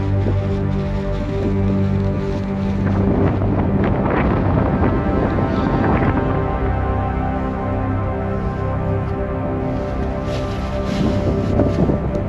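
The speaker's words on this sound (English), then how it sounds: "super windy here" Strong mountain wind on a hike to Glaciar La Paloma in Yerba Loca, near Santiago, Chile, buffets the microphone in a loud, continuous roar with gusty surges and no talking.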